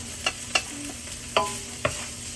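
Chicken stir-fried in a pan for pancit bihon, with a few sharp scraping stirs and clacks over a steady low sizzle, close and fairly quiet.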